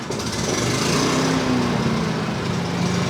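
A 3,200-watt portable generator on a test run: a loud, close, steady engine drone with a faint pitch wobble near the middle, running alone with no talking.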